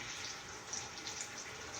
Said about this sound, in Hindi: थोड़ा इसमें पानी डाल के घुमा के इसके अंदर डालते हैं